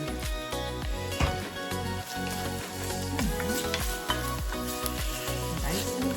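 Garlic lands in a hot pan for a beef mince curry, setting off a lively crackling sizzle that runs throughout, with repeated scraping strokes from stirring and a faint tonal hum underneath.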